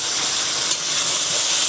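Steady, loud hiss of steam rising from a pot of simmering fish curry as its lid is lifted, a broad, even rush with no talk over it.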